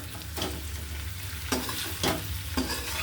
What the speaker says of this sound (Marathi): याच्यामध्ये मीठ घालायचं चवीनुसार आपल्याला ते मिक्स करायचं